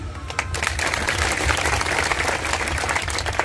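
A political rally crowd breaks into loud, sustained applause, a dense wash of clapping that holds steady and close for the whole stretch.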